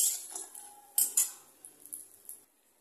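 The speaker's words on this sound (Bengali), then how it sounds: "তো আমি ডালের বড়িগুলোকে এবার উঠে নিলাম।" Fried lentil dumplings lifted out of a pan with a metal utensil, giving a handful of sharp, close clinks and scrapes against the pan at a quiet level, separated by brief pauses.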